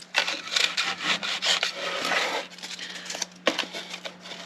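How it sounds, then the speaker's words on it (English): Wood sanded by hand inside the body of a StewMac concert ukulele kit, a loud, close, steady rasping rub with short back-and-forth strokes and brief pauses. "I'm going to sand off the center line that we drew."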